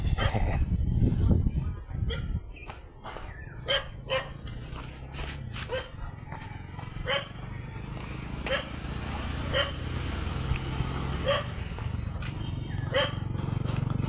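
A dog barks repeatedly in the distance, sharp yaps spaced a second or two apart, over a low rumbling background.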